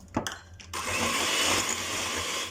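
An electric mixer whirs continuously through cake batter after oil is added, a loud, close, steady motor drone following a few brief knocks and clatters at the start.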